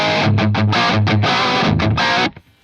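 Electric guitar played through a Metaltronix amp with the pull-treble switch engaged, distorted chords chugging in a rhythmic pattern, loud and close, then cutting off abruptly with a brief decay.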